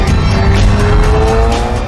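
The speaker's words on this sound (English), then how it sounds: "you have the incredible soundtrack of that engine, those two turbos sucking in great lungfuls of air and then dumping it through the wastegate" A twin-turbocharged British car engine at full song on the move, a loud continuous roar with a high whining tone threaded through it and rushing bursts of air as the wastegates dump, steady and close for two seconds.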